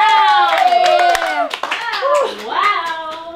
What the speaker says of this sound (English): let's all give a round of applause to that piece